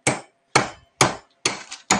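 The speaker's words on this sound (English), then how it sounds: "I may have to actually go get a hammer." A hammer strikes ice in a bag while ziplock ice cream is being made, five sharp loud close blows spaced about half a second apart, each with a short crunchy decay.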